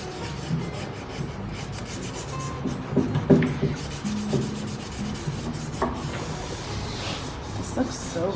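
Damp rag wiping fresh Mango Paint off a painted furniture piece to distress the edges, soft uneven rubbing and scuffing strokes, close by, with some talk mixed in.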